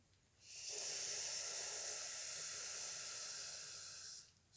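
Long, steady inhalation through the nose during a yoga breathing exercise, a close airy hiss that rises quickly, holds evenly for about four seconds, then stops.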